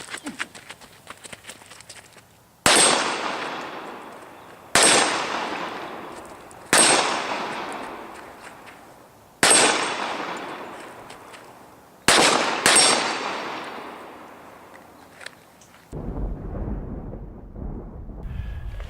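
Six loud, sharp gunshots ring out at irregular intervals during a shooting drill, each crack followed by a long echoing decay, then faint rustling and movement.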